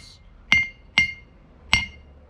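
A hammer strikes a steel anvil in a blacksmith's shop, three separate ringing clangs with short metallic decays, spaced unevenly and heard close up with no talking.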